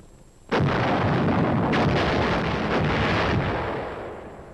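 A single heavy artillery gun fires once with a sudden deep boom up close, followed by a long rumbling roar that slowly fades over several seconds, no voices present.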